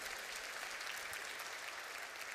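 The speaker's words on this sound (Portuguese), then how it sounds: "aplauda Jesus" Church congregation applauding during a Sunday sermon service, a dense, even roar of many hands clapping heard alone at moderate distance, continuous and unbroken.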